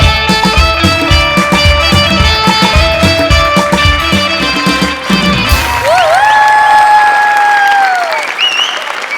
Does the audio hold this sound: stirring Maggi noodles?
no